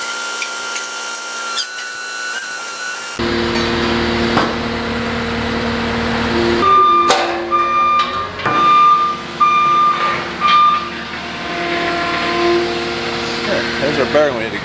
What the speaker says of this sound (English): so we're using the skid steer to put them back